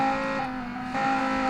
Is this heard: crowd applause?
no